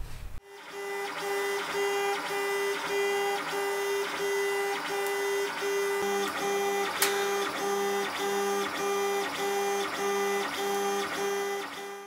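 A 3D printer printing shoulder pieces for an alien xenomorph costume, its stepper motors singing in steady rhythmic electronic tones with regular pulsing beats, close and continuous with no talking.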